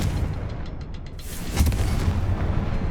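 A Confringo fire spell explodes in the video game Hogwarts Legacy: a deep, rumbling boom swells midway and lingers as a broad wash of noise, preceded by a few soft rhythmic ticks, with no talk.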